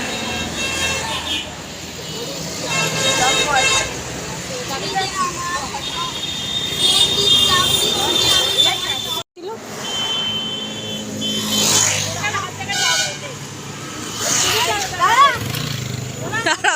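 Busy traffic rumbles around a bus stop as vehicles pass and engines idle. People talk loudly over the din, and the sound cuts out briefly partway through.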